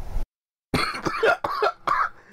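A short, sharp cough followed by a burst of rough, breathy coughing and throat sounds, close and loud.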